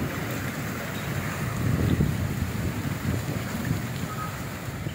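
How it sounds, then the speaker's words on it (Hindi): Heavy stormy rain pours in a steady broadband roar with gusting wind buffeting the microphone, swelling slightly midway, with no voices. "लेकिन अभी वो बारिश बहुत तेज़ शुरू हो गई है"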